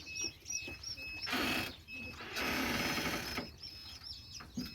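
A homemade machine runs in bursts, a rough broadband whirring that surges twice and drops back, with chirping birds audible in the background between the bursts.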